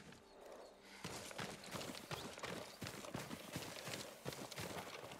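Horse hooves clip-clop steadily on a farm horse in Ghost of Tsushima, a run of close, regular hoof strikes over a busy ambient backdrop.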